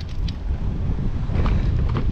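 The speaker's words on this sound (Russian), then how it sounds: "немного ветрено здесь, поэтому включил микрофон" Wind buffets the microphone in a steady, low rumbling roar, with no voices.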